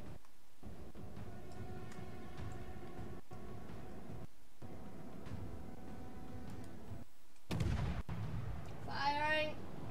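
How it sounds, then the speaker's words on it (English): Naval guns fire in the World of Warships video game, with a sharp, loud blast near the end standing out over a steady bed of in-game ambience and low rumble. "Firing."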